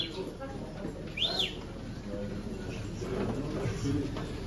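Pigeons at a pigeon auction in Bayrampaşa coo and chirp amid a busy crowded hall, with one clear rising-falling call standing out above steady background chatter.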